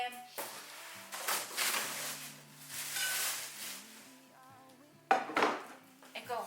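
Deep cooking pots from a new cookware set clank and scrape as they are handled and moved, with a few sharp metallic knocks, while someone talks throughout.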